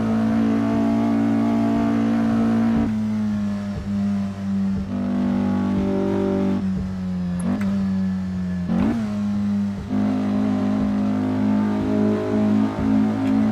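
A 1960s Porsche race car engine in a racing video game at Spa, revving loud and close with sustained buzzing drones, repeated dips and quick rev rises through gear changes.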